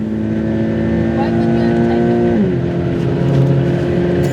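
A Subaru BRZ on a racing circuit holds a steady high engine drone while slipstreaming another car, with a pitch drop midway as it shifts gear; someone talks over the engine noise.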